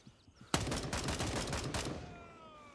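A close, rapid burst of automatic gunfire in a tactical looter shooter set in a jungle, a dense rattle of shots lasting over a second that ends abruptly and leaves a fading tail and faint ambience.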